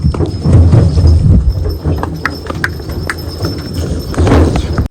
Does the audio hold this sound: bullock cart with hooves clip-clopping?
yes